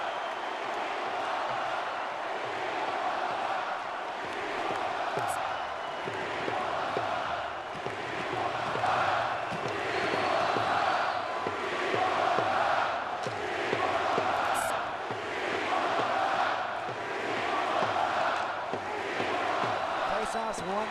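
Hockey arena crowd at an NHL Stanley Cup Final game between the Florida Panthers and Edmonton Oilers, a dense sustained roar with rhythmic swells of chanting and cheering throughout, a broadcast commentator talking over it.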